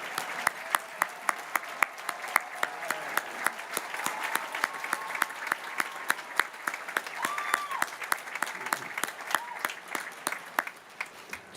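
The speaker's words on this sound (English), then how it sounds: "How about a round of applause for them again?" A large university commencement crowd applauds graduates' families, a dense sustained wash of clapping with sharp individual claps standing out, lasting throughout and tapering slightly at the end, with faint voices mixed in.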